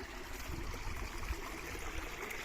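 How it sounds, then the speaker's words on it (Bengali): Water from a spring-fed stream flows past with a soft, steady rushing gurgle, continuous and fairly faint, with no voices over it. "এই তো পানি এখানে শব্দ করতেছে।"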